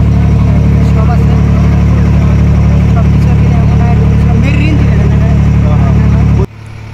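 A marine engine on a crowded country boat drones loud and steady at close range under chatter from passengers, then drops away abruptly just before the end.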